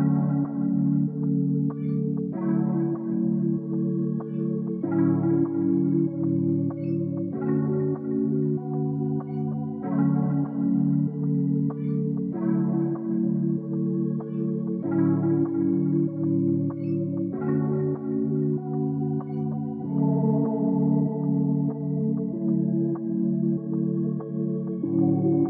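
An R&B beat loop built from one-shots in FL Studio, pitched down three semitones, plays as a warm, mellow repeating chord pattern with a steady rhythm, full and even throughout with no voices.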